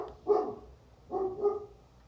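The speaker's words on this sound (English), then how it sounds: "there's my dog barking" A dog barks three times at a moderate distance, one short bark followed by a pause and then two quick barks, with quiet room background between them.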